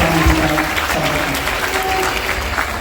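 Loud, dense applause from a large crowd welcoming yoga guru Swami Ramdev onto the stage at a Sanatan Dharma Sansad gathering, continuous and even with no pauses.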